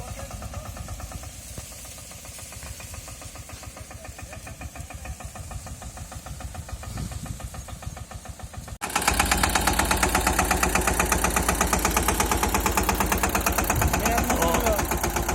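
Steady knocking chug of a Massey 5118 tractor's diesel engine running nearby, unloaded with wheels not turning, getting noticeably louder and harsher partway through as it revs up, with voices over it.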